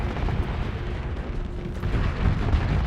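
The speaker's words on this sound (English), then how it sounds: "Oh, they've got triple auto cannons." Triple autocannons fire during a space battle in the Starsector video game, a dense, continuous roar of booming bursts that stays loud and steady throughout, with no voice heard.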